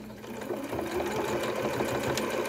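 A sewing machine stitches elastic onto a fabric chicken saddle, humming in a steady fast mechanical run from start to end, close and clear with no talking.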